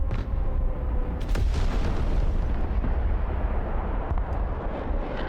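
Airstrike and artillery explosions in Broken Arrow, a heavy, unbroken roar of blasts and rumbling impacts, loud and sustained, with a few sharper cracks layered on top.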